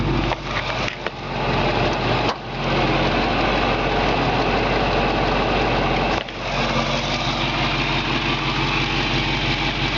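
A 1970 Ford Mustang Fastback engine idles steadily at close range, the exhaust leak adding a raspy, ticking hiss over the continuous rumble, with a few brief dips in level.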